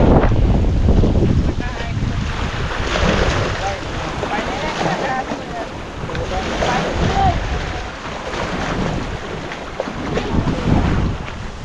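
Strong wind buffets an open outdoor spot on a forest outing with family, a loud, continuous roar that swells and eases, with voices talking faintly beneath it.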